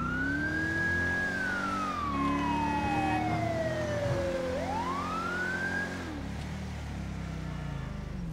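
A police car siren in the video game GTA 5 wails steadily, sweeping slowly down and then rising again over a constant engine hum, loud and continuous with no talking.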